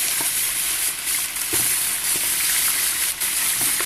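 Vegetables go into a pot of browned chicken frying in oil with cardamom and cinnamon, giving a continuous loud sizzle broken by a few soft stirring knocks, with no talking.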